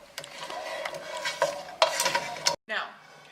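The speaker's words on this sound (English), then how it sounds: "you want to saute your ramen until it's fully cooked" Ramen sautéing in a frying pan, sizzling steadily up close with repeated scraping and stirring strokes, then a brief cutoff before the sizzle returns.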